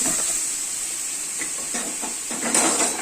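Chopped carrots and capsicum stir-fried in a pan make a steady hissing sizzle with a few soft stirring scrapes, close and fairly loud, with no talk.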